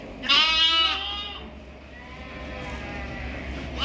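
A one-month-old lamb bleats loudly up close in one long wavering call, then again more faintly, with a third call starting at the end over low background rumble.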